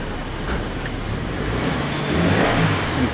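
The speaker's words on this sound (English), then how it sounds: "I think there's a car behind me, or a truck that's gonna go." A car or truck engine rolls up behind in a narrow Japanese back-street alley in Motomachi, a close mid-pitched motor whose rumble swells slightly toward the end, with no talking.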